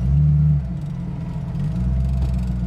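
A 1932 Ford Model Y hot rod drives along a main street, its engine giving a low steady rumble from inside the car that dips slightly after an early louder moment and then holds.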